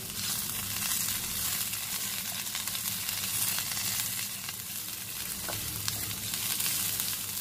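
Curry leaves sizzle in hot oil, a steady, close crackling hiss that holds evenly throughout, with no talk.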